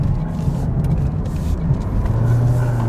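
A 2023 Toyota Prius with all-wheel drive rounds a sharp left turn, its steady road and tire noise rumbling loud and close inside the cabin, with no squeal.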